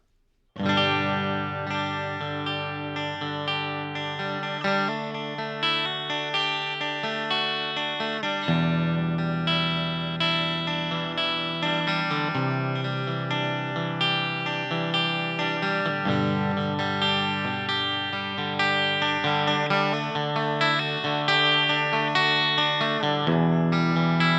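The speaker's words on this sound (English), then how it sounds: "using a 3 single coil Stratocaster, mic'd up with a Shure SM57" An amplified electric guitar, a three-single-coil Stratocaster on its bridge pickup through a Four Force EM-1 amp, plays chords and riffs continuously, bright and slightly driven with a chorus-like shimmer, steady and loud throughout.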